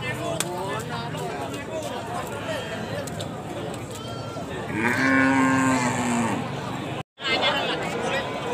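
A cow lets out a long, loud moo close by while people chatter and call in the background of a busy cattle market.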